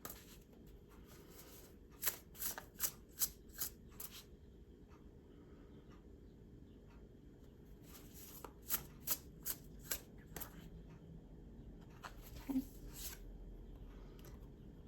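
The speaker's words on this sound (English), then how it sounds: "Okay, you want me to shuffle before I pull this last one?" Quiet tarot card shuffling in two separate bursts, each a rapid run of soft flicks and riffles over faint background hum.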